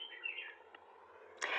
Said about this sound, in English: Can you hear that beautiful bird?